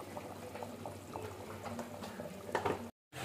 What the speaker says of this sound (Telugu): హై ఫ్లేమ్ పెట్టి ఒక 5-10 మినిట్స్ పాటు ఉడికించుకోండి